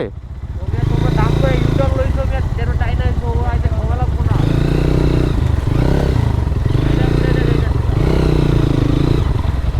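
A motorbike engine runs loud and close near a hilltop in the Sukhia Valley hills around Lama and Alikadam, with its steady rumbling drone swelling in repeated surges while voices talk over it.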